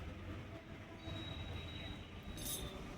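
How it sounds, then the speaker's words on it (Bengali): A train pulling into a station, a faint rumbling approach with a thin sustained wheel squeal and a brief high screech near the end, heard from some distance with no talking. "এই দেখো ট্রেন ঢুকছে, যে ট্রেনটা হর্ন দিচ্ছিল একটু আগেই আওয়াজ পাচ্ছিলাম, এই যে ট্রেনটা ঢুকছে"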